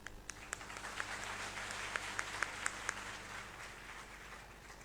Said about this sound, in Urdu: اس پہ تالیاں ہو جائیں.